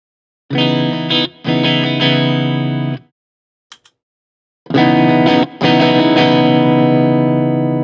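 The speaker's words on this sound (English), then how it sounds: "So that adds a very distinct sort of overdrive sound" Overdriven electric guitar chords ring out in two loud, sustained bursts separated by a short pause with a faint string noise.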